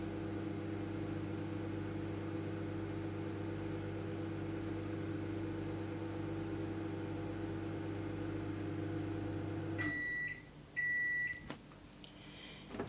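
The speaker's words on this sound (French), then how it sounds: "c'est à ce moment-là que je vais arrêter le micro-ondes" A microwave oven hums steadily while cooking a dark chocolate fondant, its constant drone stopping abruptly near the end, followed by a few short electronic beeps and door clicks.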